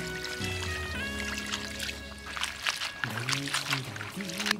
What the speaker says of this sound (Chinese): 做好的洋芋丝儿洗一下，不洗也可以